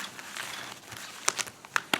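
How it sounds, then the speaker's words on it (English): Tarot cards being shuffled by hand, soft papery rustling punctuated near the end by several crisp snaps and flicks, close and fairly quiet with no talking. "We've got 1, 2, and we're going to shuffle again."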